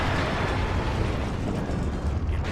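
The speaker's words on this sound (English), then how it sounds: "Let's get that MLRS system. And I'm going to try it. I want to actually fire it back here." MLRS rocket artillery firing in the video game WARNO makes a sustained, loud, roaring rumble with no break and no voices.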